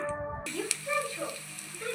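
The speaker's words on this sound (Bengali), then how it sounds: "এবার বড়াটা ভেজে নেব।" Lentil fritters of ground masoor dal with onion, chilli, turmeric and salt frying in hot oil in a kadai, giving a faint, steady sizzle with small pops after a brief noisy start.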